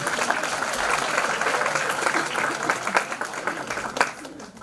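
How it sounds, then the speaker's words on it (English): An audience at a youth conference session applauds its panelists, a close, dense patter of clapping that stays steady before tapering into scattered claps. "can we have a round of applause for our panelists?"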